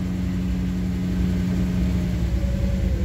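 The engine of a 1962 Chevy Impala idles while it warms up in a garage. It makes a steady, close, low rumbling drone with an even pulsing beat.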